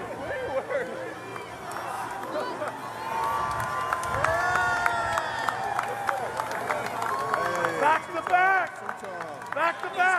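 A crowd cheers and shouts at a back-to-back national championship celebration for the Huskies, with the trophy held up. Excited voices and whoops run continuously, rising in bursts, and people talk amid the noise.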